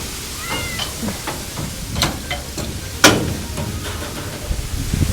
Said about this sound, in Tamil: கேட்ஸுக்குள்ளே கம்யூனிகேட் பண்ணிக்குவானுங்க போல இருக்கு.